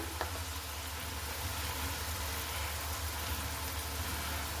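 Green chilli paste fries in a pan with a steady, moderate sizzle, an even crackling hiss that continues without voices.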